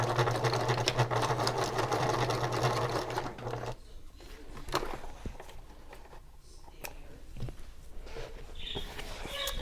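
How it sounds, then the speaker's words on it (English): Sewing machine stitching over handbag fabric, a loud, steady close whir for several seconds that stops, followed by quieter handling and clicks. "I'm going to sew it over it a couple times actually"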